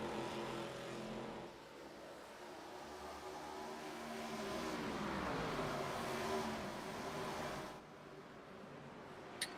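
ARCA race cars lapping the Milwaukee Mile in a racing video game, a steady droning engine roar that rises and falls as cars pass and shift, continuous throughout before dipping near the end.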